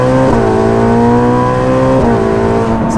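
A Ferrari 458 Speciale fitted with a Novitec exhaust revs hard on a race track, its loud, close, high-pitched engine wail holding steady with brief pitch dips at gear shifts.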